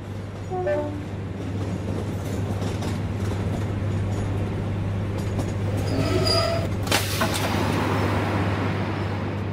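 A train rumbling along the rails with a steady low drone, a brief horn-like tone early on and a brighter screech of wheels or brakes near the end, no speech.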